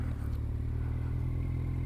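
A 2008 Kawasaki Z1000 four-cylinder motorcycle being ridden makes a continuous low engine drone with steady wind rush, fairly loud and unbroken across the short stretch, with no voices.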